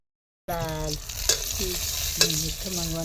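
Green chillies roasting in hot oil, cooked over a village wood-fired stove: a steady close sizzle begins abruptly, with a couple of sharp spatula scrapes and clinks breaking through.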